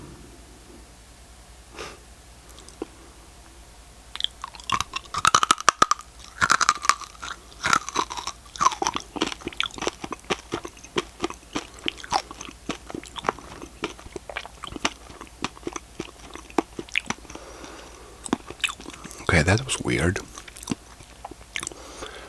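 Close-up loud crunching and chewing of Japanese rice crackers, many sharp bites in irregular rhythm, with breathing, a sniff, and a brief spoken remark.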